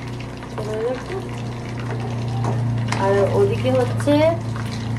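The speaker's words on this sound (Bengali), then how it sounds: "এই যে এখানে পকোড়া তেলে ভাজা হচ্ছে" Chicken pakoras sizzle in hot oil with a steady frying hiss and hum, while people talk nearby over the cooking noise.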